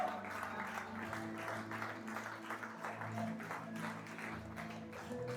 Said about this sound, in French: On continue d'acclamer.